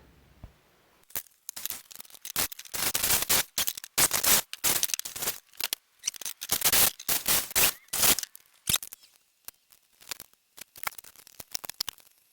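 A plastic front splitter piece for a Buick Regal GS is being cut and trimmed, producing rapid, uneven bursts of crisp snipping and scraping close by, thinning out into sparse single clicks near the end.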